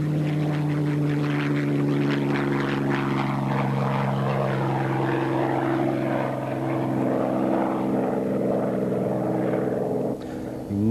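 A Supermarine Spitfire propeller engine roars loud and steady as the plane flies overhead, its tone shifting slightly as it passes.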